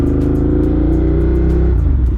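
A car engine stuck in limp mode, capped at 4,000 RPM, revs loudly and steadily close by, with harmonic engine drone holding high before easing off near the end.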